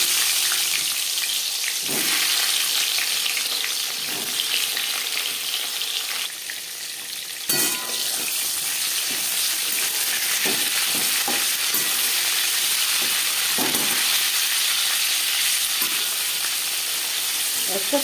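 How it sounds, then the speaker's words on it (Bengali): Pieces of pointed gourd (potol) frying in a pan with salt and turmeric, a constant loud sizzle with occasional clacks of stirring or turning, close and uninterrupted, no voices. "পটল ভেজে নেব।"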